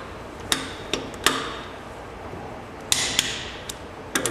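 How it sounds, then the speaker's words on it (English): Clicks from a torque wrench set to 75 foot-pounds while tightening wheel lug nuts on a vehicle, heard as a series of sharp, separate clicks spread across the moment with quiet gaps between them. "once it's clicked, that's 75 foot-pounds of torque"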